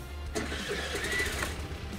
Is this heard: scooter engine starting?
yes